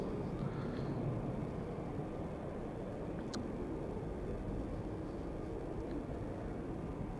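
A KLM airliner departs Amsterdam Schiphol on flight 635 to Las Vegas, its jet engines making a steady broadband roar that holds loud and constant throughout, with no pause or fade.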